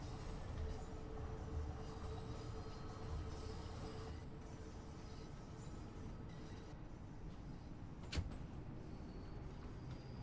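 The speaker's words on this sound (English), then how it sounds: "Another train coming through." A train passes in the railway simulator Train Sim World 3, a steady low rumble of wheels and cars rolling by for the whole stretch, with a brief sharp clank near the end and no talking.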